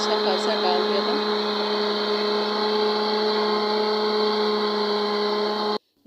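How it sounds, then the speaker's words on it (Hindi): A blender grinds masala for a pakora curry in a steady, loud, continuous whir lasting about six seconds, then cuts off abruptly. "वहाँ वो ब्लेंडर हो रहा है"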